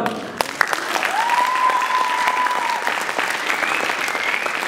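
A theatre audience at a Kazakh talent show bursts into sustained applause, dense clapping from a crowd with a brief whistle-like tone ringing through it.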